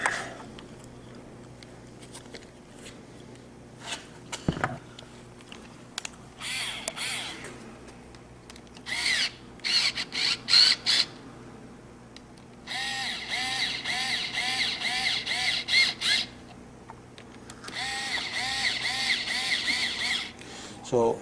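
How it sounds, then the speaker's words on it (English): A power drill drives screws to mount a release handle, its motor whining up and down in several separate bursts of a few seconds each, close and fairly loud, with quiet pauses between runs. "So I'm first driving in"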